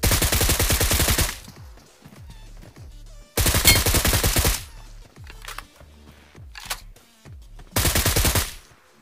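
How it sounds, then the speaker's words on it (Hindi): Loud bursts of rapid automatic gunfire in PUBG Mobile come in three long volleys, separated by scattered single shots and quieter gaps. "गोली चलने की आवाज़ आ रही थी"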